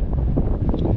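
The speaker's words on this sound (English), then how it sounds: "Very windy here." Strong wind buffets the microphone in heavy low rumbling gusts on the West Highland Way between Tyndrum and Kingshouse, Scotland, loud and close, with no voices.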